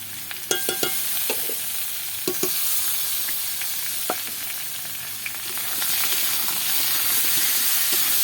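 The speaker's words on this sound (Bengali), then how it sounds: "আলুটা ভাজা ভাজা হয়ে গেছে, পটল দিয়ে দিয়েছি আর মশলাটা দিয়ে কষিয়ে নেব।" Potato and pointed gourd curry stir-fried with spices in a pan: loud, close sizzling under several sharp utensil clicks and scrapes early on, settling into a continuous frying hiss.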